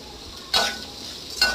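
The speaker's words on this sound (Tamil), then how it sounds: "எல்லாம் சேர்ந்து நல்லா வதக்கணும்" A mix of ingredients sautéed in a pan for a vallarai keerai thuvaiyal sizzles softly, then two short bursts of louder hissing and scraping come as they are stirred, one early and one near the end.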